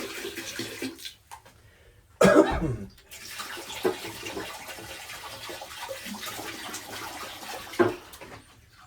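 A 50-50 mix of water and RV antifreeze drains from a lodge water system, gurgling and splashing steadily with a sharp surge partway through, close by and with no talk.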